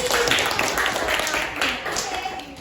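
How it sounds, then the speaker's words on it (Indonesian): Students in an English classroom clap together in a short, uneven burst of individual claps, close and fairly loud, with voices talking over it. "Tepuk tangan untuk kalian semua."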